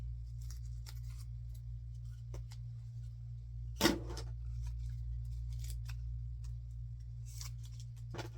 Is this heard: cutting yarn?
yes